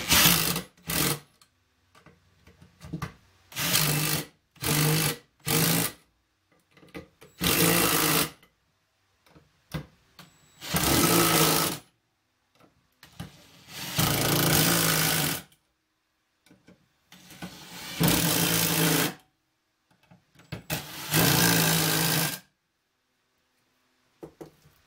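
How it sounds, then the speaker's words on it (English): An impact gun with a 9/16 socket torques down the bolts on a fiber press, firing in repeated sharp rattling bursts of varying length separated by silent pauses, loud and close. "Get your impact gun that has the 9/16 socket, and you just torque it down, starting with the middle bolts."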